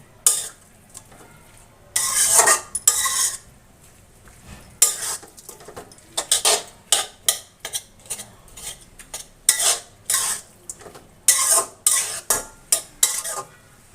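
A spoon scrapes and clatters around a pan of pumpkin vine vegetable curry in repeated bursts of stirring, close and fairly loud, with brief quiet gaps between strokes over a faint sizzle.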